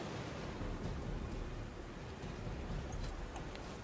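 A spell summons a thunderstorm in the fantasy game Might & Magic X Legacy, heard as a steady, hissing wash of rain with low rumbling thunder underneath, moderately quiet and with no voices.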